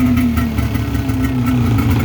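A Ski-Doo two-stroke snowmobile engine idles at close range, a steady low rumble with no throttle changes and no voices.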